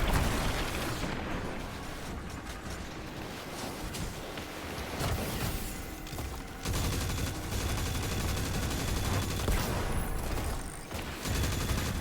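Automatic weapon fire in the shooter game Destiny rattles on in dense, loud, nearly unbroken bursts, with only a brief dip before the barrage resumes.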